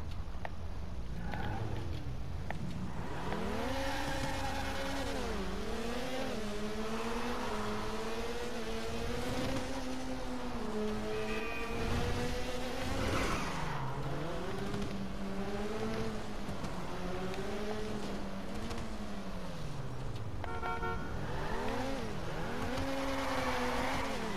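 An expensive sports car engine revs up and down continuously as the car drives, its pitch rising and falling through repeated accelerations and gear changes, loud and steady throughout.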